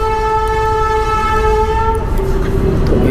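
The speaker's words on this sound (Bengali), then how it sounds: "ট্রেন আসছে আর কি" A train approaches a level crossing where traffic waits at a rail gate, its horn sounding as a long, loud sustained tone over steady rumbling, then fading into continuous close rail and road noise.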